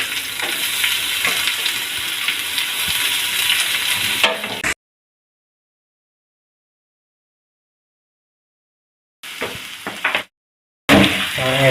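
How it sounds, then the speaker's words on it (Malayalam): Mango pieces for sambar mango pickle sizzling in a pan while being stirred, a loud frying hiss with scraping, broken by a long silent gap and then returning in short bursts. "ഇങ്ങനെ ഇളക്കി കൊടുക്കുക."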